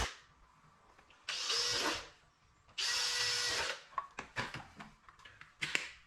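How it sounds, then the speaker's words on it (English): A power drill whirs in two sustained bursts of a couple seconds each, drilling holes in the back of a box, followed by scattered clunks and brief shorter spins. "I thought I'd drill the holes in the back of the box"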